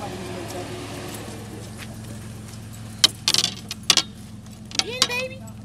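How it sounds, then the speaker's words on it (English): Someone breaking into a locked car, with metallic jangling and sharp clicks and scrapes at the door and lock arriving in quick bursts near the end, over steady low background rumble. "We're trying to break into this car"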